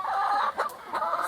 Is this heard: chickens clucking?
yes